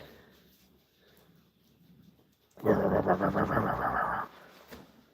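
A dog growls close by indoors, one low rumbling snarl lasting under two seconds after a quiet stretch, then fading.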